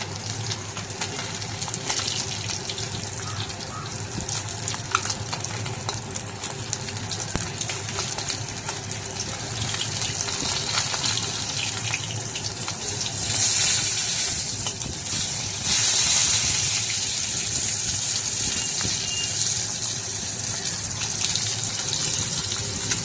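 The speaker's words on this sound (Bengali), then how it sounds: "দেখো মাছগুলো এখন আমার প্রায় ভাজা হয়েই এসেছে" Snakehead fish fry in a pan with a dense, continuous crackling sizzle, loud and close. It swells with bursts of sharper spitting partway through and carries on without voices.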